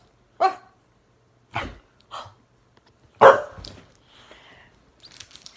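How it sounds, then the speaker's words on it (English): A service dog in training barks in several short, loud, separate bursts, close by, with a few softer yips and rustles near the end. "this is my service dog in training, Ziva."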